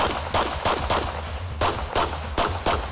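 Fast USPSA practical shooting stage gunfire, about nine loud, close shots in a quick, fairly even rhythm with a brief gap midway, and no voices.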